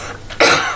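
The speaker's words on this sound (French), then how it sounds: "Ouais, je tousse un peu" A woman gives one sharp, close, loud cough that ends with a short throat-clearing catch.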